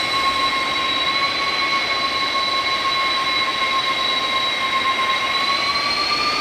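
Simulated Boeing 747-200 freighter taxiing at Vancouver in X-Plane 12, a loud, steady jet engine whine with constant high tones over a broad roar, unbroken throughout.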